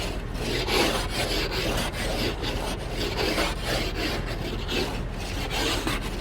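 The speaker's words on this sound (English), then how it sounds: "He's scraping the ice off of the windshield, and it's the worst sound in the world." Harsh, repetitive scraping strokes rasp across an icy car windshield in a steady back-and-forth rhythm, close and continuous.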